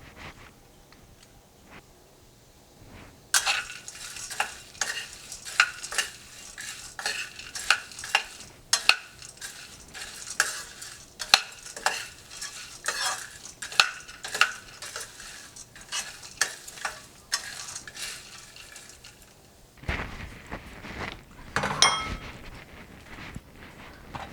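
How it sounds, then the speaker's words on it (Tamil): Peanuts and roasted gram are tossed and stirred in a pan with a little oil, giving a steady run of rattling, scraping stirring sounds with a light sizzle under them, close by and moderately loud, with a brief pause before a final flurry. "எண்ணெய் கொஞ்சம் விட்டுட்டு அதில் கொஞ்சம் கடலை, பொட்டுக்கடலை, இது ரெண்டையும் நல்லா ட்ரை ரோஸ்ட் பண்ணி எடுத்துக்கணும்"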